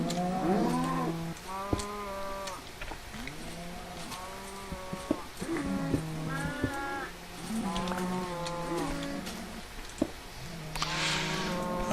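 Cattle in a Minecraft TerraFirmaCraft farm moo repeatedly, several overlapping low drawn-out calls from multiple animals in quick succession, close and clear with a few small clicks between them.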